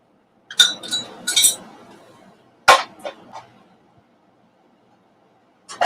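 A metal baking pan being handled while greasing it with butter for keto zucchini bread: sharp clinks and knocks in short clusters with quiet gaps between them, close up and with no talking.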